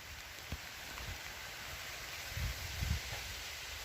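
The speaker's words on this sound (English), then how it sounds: "It's getting nasty out here. I'm standing in the rain." Rain falls steadily outdoors as a soft, even hiss with a few louder drips and thumps close by. No one speaks.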